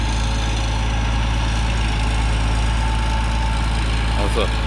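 Road grader engine idling steadily and loudly, with a low constant rumble that runs through the whole span. A brief shift near the end marks the driver grabbing gears.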